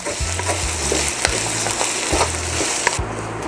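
Pork and tuna sisig with sugar is stirred in a frying pan, a steady close sizzle broken by repeated scraping strokes of the spatula over a low background hum.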